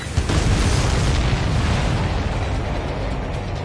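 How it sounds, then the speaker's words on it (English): Missiles explode in the jet combat game Ace Combat 7: Skies Unknown, with a loud, continuous rumbling roar of blasts that swells at the start and holds without a break. "All of the missiles have been destroyed."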